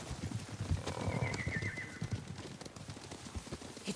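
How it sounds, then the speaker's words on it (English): Horses gallop toward the listener in a video game set amid Mongol raiders, a rapid uneven clip-clop of hooves over a rustling background, moderately loud with no voices. "Horses. They're coming for us."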